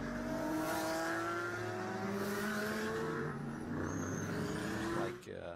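GT race cars of the field sweep through the Lime Rock circuit, a fairly distant engine drone with rising and falling pitch as the cars pass, while a commentator talks throughout.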